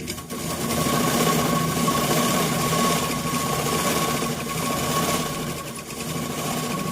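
A sewing machine stitches a plain blouse sleeve, running steadily with a fast, even mechanical whirr and clatter up close for about seven seconds.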